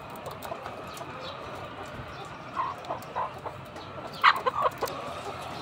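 Moulting chickens, force-moulted on four days without feed, cluck in a quiet yard; a few soft calls come midway, then a louder cluster of clucks near the end.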